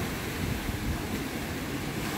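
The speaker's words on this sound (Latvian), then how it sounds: "Izskatās pārāk lieli viļņi." Sea waves rolling and breaking along an Italian shore, a steady continuous wash of surf mixed with wind noise on the microphone, with no voices present.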